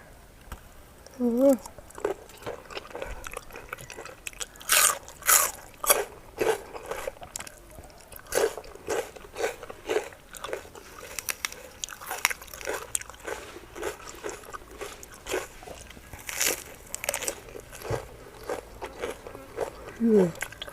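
Someone eats shrimp soaked in fermented fish sauce alongside crunchy bitter melon, with close, irregular crunching and chewing bites repeating throughout, mixed with brief mouth noises and occasional soft vocal sounds.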